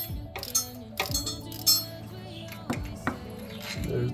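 A metal bolt from a Subaru WRX transmission removal clinks and taps against metal parts in several sharp, bright knocks with short ringing tails, spaced irregularly and close by in a quiet garage.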